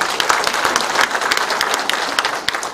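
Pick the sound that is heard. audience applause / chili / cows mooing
audience applause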